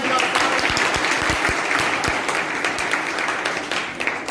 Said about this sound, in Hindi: मैडम आपके हाथ से एक बार आपकी जोरदार तालियां